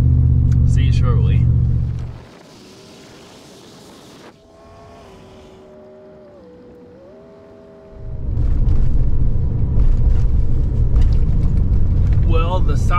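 A truck drives along a road with a loud, low rumble at the start. The rumble drops away to a hushed stretch with a faint rising and falling whine, then the heavy rolling noise returns just as loud.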